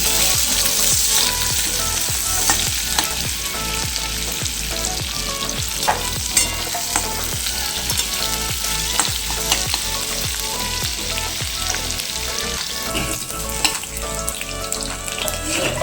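Onions fry in a pan on a home stove, giving a close, continuous, crackling sizzle broken by frequent scraping stirs, with no voices.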